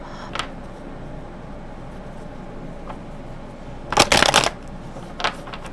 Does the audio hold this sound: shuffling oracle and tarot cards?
yes